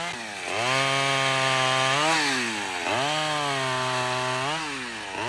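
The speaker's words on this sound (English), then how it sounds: "Daryl Bosley from Grawn was the guy running the chainsaw" A loud chainsaw engine revs and bogs down repeatedly as it cuts wood, its pitch dipping and rising in long strokes.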